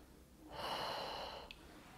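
A single long breath drawn in during a pregnancy inner-thigh exercise, soft and close, lasting about a second and fading out, with a tiny catch at the end.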